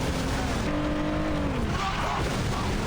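A car in the video game Saints Row brakes hard, tires squealing in a sustained skid over steady, loud engine and road noise, with no talking.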